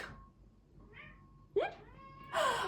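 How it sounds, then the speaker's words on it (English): A hungry house cat meows indoors, a few separate cries spread across a quiet room, one short faint mew followed by louder, clearer meows near the end. "My cat is hungry."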